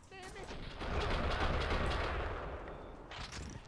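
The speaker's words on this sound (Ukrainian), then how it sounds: "вже хтось там стріляє по нас." Bursts of rapid gunfire in the video game Max Payne 2 rattle continuously at moderate distance, a dense crackling volley with game-like sound effects.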